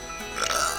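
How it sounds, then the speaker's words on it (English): A short, soft burp from a young woman, a brief low gurgling eructation close to the mic in a quiet room. "But I have to burp."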